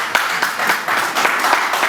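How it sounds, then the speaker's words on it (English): A live comedy-show audience claps for a comedian in a short, loud burst of dense, steady clapping. "Anybody want to clap for me again?"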